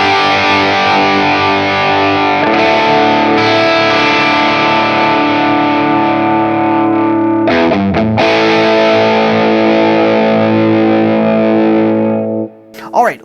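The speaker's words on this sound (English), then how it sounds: "at that gain stage, still sounds great. Lots of clarity, especially in that bridge pickup there." A flametop Firefly 335-style hollow-body electric guitar on its bridge pickup, played through heavy distortion: loud sustained chords ring continuously, with a brief choke near the middle before resuming, then cut off at the end.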